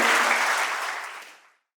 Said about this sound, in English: give again a huge round of applause for our special guest